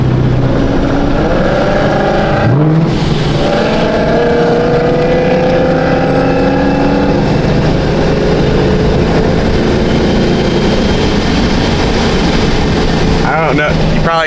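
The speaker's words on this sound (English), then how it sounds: "I wonder how loud the Procharger is going to be." A 900whp Procharged Ford Mustang S650 drives with a loud, steady engine drone and a rising supercharger whine, a brief gear-change dip partway through, heard close from inside the car.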